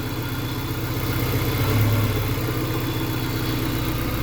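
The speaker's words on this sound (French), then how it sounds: "je vais laisser tourner le moteur un petit moment" A Peugeot 306 S16 engine idles after an alternator replacement, a steady, even rumble held close with no talk.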